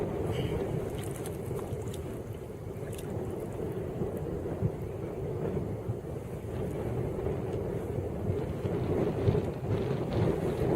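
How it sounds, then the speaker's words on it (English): Heavy wind buffets a kayak on the water during a fishing outing, a constant rumbling roar with blustery gusts and splashy noise across the whole stretch. "Fishing in the heavy wind."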